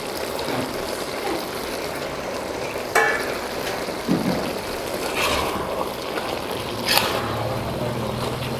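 Chicken cooks covered in a pan, giving a steady soft sizzle and bubbling throughout, with a few faint clinks and knocks along the way.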